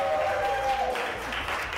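Applause from a live audience at a Christmas cooking show rises and continues steadily for a couple of seconds, with a brief tonal note over the start.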